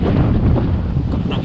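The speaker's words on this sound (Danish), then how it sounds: "vinden er taget til" Strong wind blows on the coast of Møn during early-autumn sea trout fishing, buffeting the microphone with a loud, continuous roar and no one talking.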